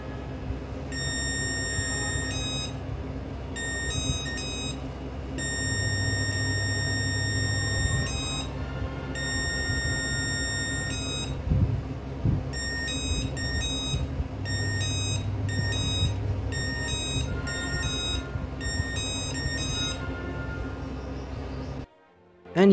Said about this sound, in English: when I get closer, it makes some noise from the buzzer